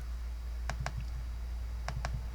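A computer mouse clicks two quick pairs, close and crisp, separated by about a second, over a low steady hum with no voices.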